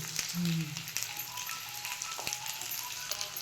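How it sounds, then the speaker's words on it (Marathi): Sweet potato slices roasting in ghee in a pan give a soft, crackling sizzle with scattered pops, fairly close, joined by a brief low tonal sound and light clatter. "तुपात आता असा खरपूस भाजून घ्यायचं"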